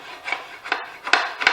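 A modified aluminum hand tool scrapes dried glue off a flat wooden surface while a lazy Susan is built. Four quick, close rasping strokes come at a steady rhythm with brief gaps between them.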